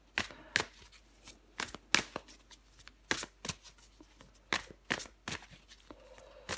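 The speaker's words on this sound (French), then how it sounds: "je prends encore une carte pour vous les béliers" Tarot cards being shuffled and drawn: a series of crisp, rapid riffling bursts and flicks at close range, each burst separated by brief pauses, with no voices.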